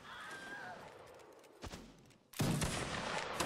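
Musket volley fire in a Napoleonic Wars line battle: a quiet start with a couple of scattered reports, then a sudden heavy roll of massed musket shots that keeps crackling.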